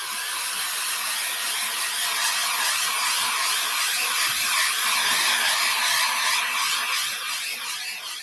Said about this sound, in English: now let me get my dryer, and I'm going to dry this out.